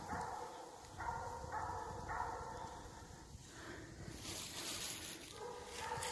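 Hunting dog barking at a treed raccoon during a night hunt, heard from a distance as faint, repeated barks under steady outdoor background noise, with no talking.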